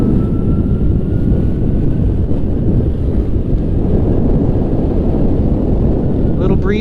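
Loud, constant wind buffeting roars over a helmet-mounted camera microphone while riding a board outdoors, a heavy low rumble that stays unbroken for the whole stretch.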